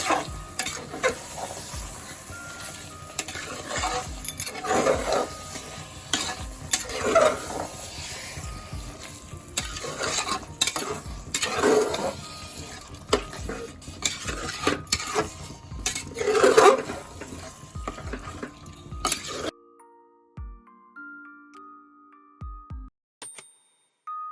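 Masala being stirred into mutton curry in a pan: repeated scraping strokes of a spoon against the pan over a continuous sizzle, with brief utensil clinks, ending abruptly in near silence.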